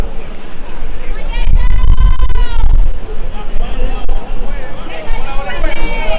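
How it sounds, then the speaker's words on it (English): Crowd at an under-18 championship baseball game between Venezuela and the USA, a loud, continuous murmur of many voices with a swell of noise partway through, under commentary. "You can hear the crowd here, ladies and gentlemen."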